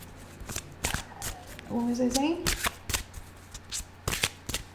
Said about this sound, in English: it's so big, the deck, so that's why I'm shuffling, like, separating them first